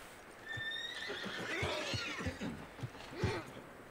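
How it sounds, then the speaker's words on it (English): In Red Dead Redemption 2, a horse whinnies loudly with a rising, shaky call, followed by snorts and a few clopping thuds close by. "I'm about to shoot this horse."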